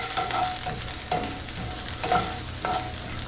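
Potatoes frying in a pan give a steady sizzle, broken by several short scraping stirs spaced about a second apart.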